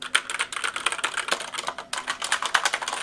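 Rapid clacking keystrokes from a RisoPhy wireless mechanical gaming keyboard, a steady run of close, crisp taps with no voices.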